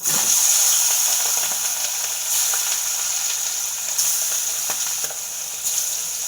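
Pieces of rohu-type fish dropped into hot oil in a kadai fry with a loud, continuous close-up sizzle and crackle, steady throughout with faint clicks beneath.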